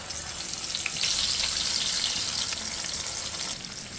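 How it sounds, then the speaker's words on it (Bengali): Poa fish fries in hot oil in a frying pan, giving a loud, continuous close-up sizzle that swells briefly after the first second and settles slightly near the end, with no talking. "এখন আমি দিয়ে দিব মাছ, পোয়া মাছ ভাজার জন্য"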